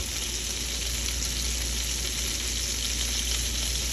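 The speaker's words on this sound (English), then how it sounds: "We're just going to fry them in some butter." Salmon patties fry in butter in a pan, making a steady, close, unbroken sizzle with no voices over it.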